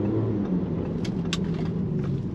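An Audi A7 Sportback 4G8 diesel car pulls away from a stop, its engine a steady low rumble heard from inside the cabin, with no voices.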